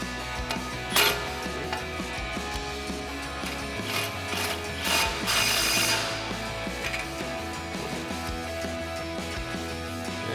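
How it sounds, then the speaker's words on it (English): A ratchet with a 21 mm socket, an extension and a swivel tightens the upper ball joint nut on a RAM 1500 front control arm, a steady run of sharp mechanical clicks with a few louder knocks and no voices. "Now we'll tighten back down our upper ball joint nut with our 21 mil socket, an extension with a swivel."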